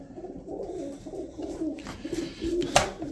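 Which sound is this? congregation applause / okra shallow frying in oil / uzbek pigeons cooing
uzbek pigeons cooing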